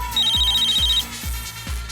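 A telephone rings with a rapid electronic trill in a quick burst, heard over a thumping disco beat with music playing underneath.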